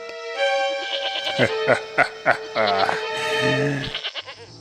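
A cartoon goat bleats in a drawn-out, wavering cry, loud and close, followed by shorter broken bleats that trail off, with a steady tonal background tone running beneath.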